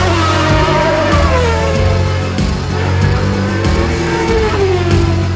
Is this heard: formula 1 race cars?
yes